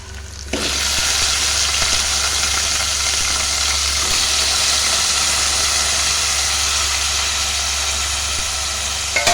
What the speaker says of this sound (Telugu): ఇందులో మనం కట్ చేసి పెట్టుకున్న ములక్కాయలు వేసుకుందాము